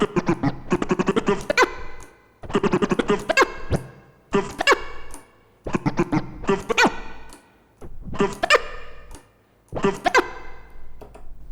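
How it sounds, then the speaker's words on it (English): A DJ scratches a vinyl record with double-time clicks, making two notes on each pullback, in short clustered bursts of chirpy scratches separated by brief gaps. "when I do the double time click, I produce 2 notes on my way back as I pull the record back"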